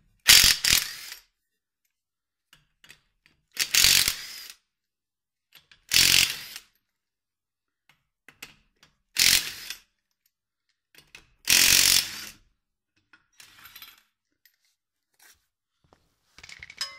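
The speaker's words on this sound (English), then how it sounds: "Next, you want to go ahead and remove the lug nuts off the vehicle, which is a 19 millimeter." An impact tool zips loose 19 mm lug nuts on a 2007-2011 Toyota Camry in five short, sharp bursts about two seconds apart, with near silence between them.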